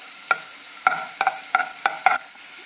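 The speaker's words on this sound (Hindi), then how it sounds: "1 टेबल स्पून लहसुन डालेंगे और इसको फ्राई करेंगे खुशबू आने तक।" Garlic frying in oil in a pan, a tablespoon of it for a homemade pasta and pizza sauce, with a steady close sizzle broken by five or six sharp scraping spatula strokes, and no talking.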